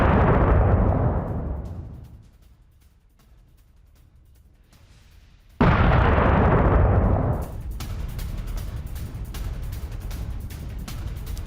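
Kinzhal missile strikes on Kyiv during a large Russian attack: a loud, booming blast that fades away, then a second heavy explosion about halfway through, followed by a sustained rumbling roar with crackling.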